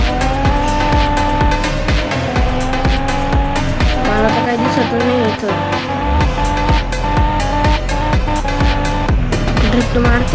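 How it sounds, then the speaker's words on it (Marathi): A car drifts in the Car Parking Multiplayer video game, its engine roaring loud and steady with sustained tire squeal and skidding, overlaid with constant music-like tonal layers and no clear gaps. "ड्रिफ्ट मारती गाडी नुसती"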